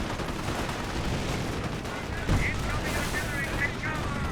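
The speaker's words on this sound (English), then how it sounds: "And we do have some artillery being brought in. That's officer artillery." Artillery barrage in the real-time strategy game Company of Heroes 1, a dense bed of rumbling explosions and gunfire with a sharp louder blast partway through, continuing steadily throughout.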